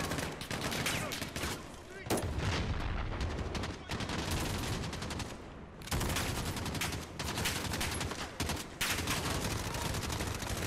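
Dense, loud bursts of automatic machine gun fire rattle in sustained volleys with brief gaps, from the video game Call of Duty: Modern Warfare, with a player's voice briefly heard among the shots.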